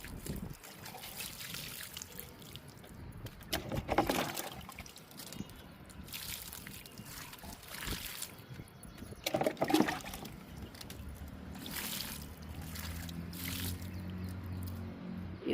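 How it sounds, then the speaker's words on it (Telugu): Water is poured onto soil before mango seeds are planted, giving faint intermittent trickles and splashes with soft gurgling, then a steadier flow near the end. "ఫస్ట్ మట్టిని తడుపుదామండి"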